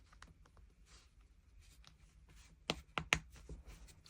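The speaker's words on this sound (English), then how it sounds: "So I'm just going to put the backs on those" Plastic safety eye backs are pressed onto the posts of a crocheted amigurumi pumpkin turtle, making three sharp, close clicks in quick succession over a quiet room hush.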